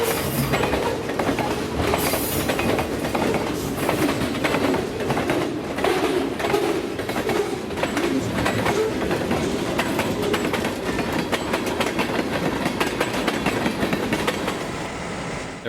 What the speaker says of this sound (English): Westbound rolls through Christie with an SD45U and Kodachrome F45 for power.